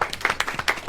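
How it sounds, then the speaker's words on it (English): A brief patter of audience clapping breaks out for a live guitarist at a campus panel event, short and moderately close. "Can you give him a round of applause?"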